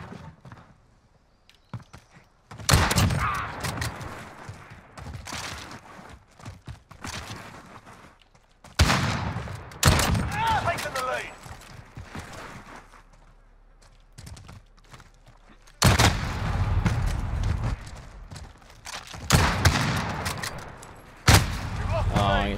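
Sniper rifle shots in a first-person shooter game, several sharp loud cracks spaced a few seconds apart, each with a rolling tail, over a dull ambient bed.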